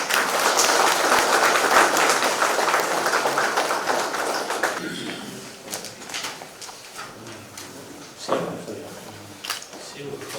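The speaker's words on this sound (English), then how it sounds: "A round of applause, please." A crowd claps in steady applause at a Good Governance Day event honouring Atal Bihari Vajpayee, gradually thinning out, leaving a few scattered claps and some background murmuring.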